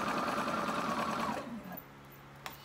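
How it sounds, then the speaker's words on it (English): A sewing machine bastes ruffles on a dress in a quick, steady mechanical whir that runs close and clear for over a second, then stops, leaving a quiet room and a small click. "So I'm basting everything down. I'm basting those ruffles,"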